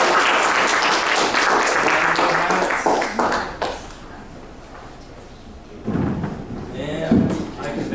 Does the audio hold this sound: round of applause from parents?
yes